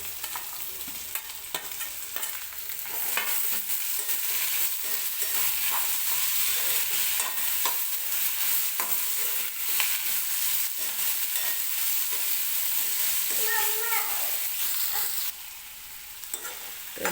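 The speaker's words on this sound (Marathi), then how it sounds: "आता मी कांद्यामध्येच लसूण आणि हिरवी मिरची जी कट केली आहे ती टाकून घेणार आहे आणि सोबतच टोमॅटो सुद्धा टाकणार आहे, म्हणजे सगळं एकत्र व्यवस्थित भाजलं जाईल" Onions, garlic, green chilli and tomato fry in hot oil for matar paneer, a dense continuous sizzle broken by frequent scraping stirs, close and loud until it eases slightly near the end.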